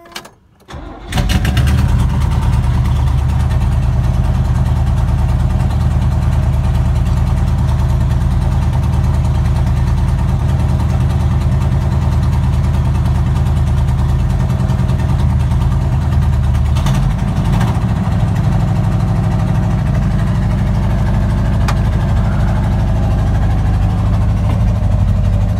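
A 1969 Chevelle SS396 with the L78 V8 cranks briefly and catches with a loud burst, then settles into a heavy, lumpy idle that rumbles on steadily and close for over twenty seconds.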